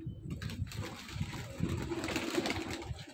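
A prized pigeon, a dabaz or champion kabootar, coos in low, throaty pulses close by, repeating steadily with a soft rustling background and no talk.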